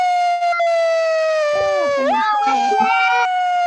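An ambulance siren plays loudly during a children's sound-guessing game, a steady wailing tone with harmonics while a voice speaks over it in the middle.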